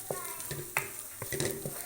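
Mutton gosht browning in a pan, with a soft sizzle broken by short clinks and scrapes of stirring, close and fairly quiet, with no talk.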